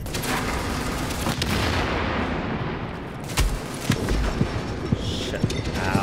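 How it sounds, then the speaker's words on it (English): Gunfire in The Division, a third-person shooter, crackles through a steady dense bed of game noise, with a burst of sharp shots near the middle and several single spaced reports toward the end. "Gonna wait for a reload, and then I'm gonna shoot you in your firecracker backpack."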